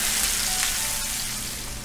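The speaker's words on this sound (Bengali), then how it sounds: "পেঁয়াজটাকে আমি হালকা ভেজে নিব" Chopped onion frying lightly in oil, a dense continuous sizzle close up, steady and fairly loud with faint stirring, no voices.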